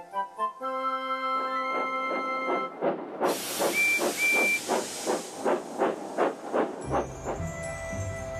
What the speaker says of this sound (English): they tooted their best friend's whistle for everyone to hear